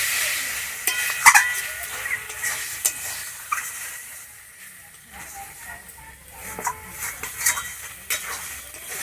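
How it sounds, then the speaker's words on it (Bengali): Greens curry (shak) being stirred in a pan, soft scraping and sporadic utensil clinks over a low hiss, with brief quiet speech in the background. "দিয়ে আমি নেড়ে দিচ্ছি"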